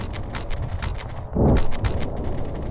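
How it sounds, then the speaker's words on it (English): Rapid, steady bursts of gunfire crackle in Warhammer 40,000: Dawn of War – Winter Assault, with a heavier, booming impact breaking through midway before the rattling volley resumes. "We're under fire!"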